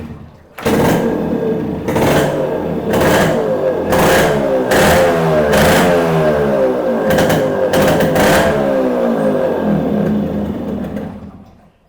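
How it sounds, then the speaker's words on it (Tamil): A Yamaha RX100 two-stroke motorcycle with an original exhaust starts up close by, then idles and is blipped through a series of sharp, rising revs before cutting off. "வெஹிக்கிளோட இன்ஜின் நோட் கேளுங்க."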